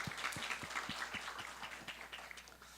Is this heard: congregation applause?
yes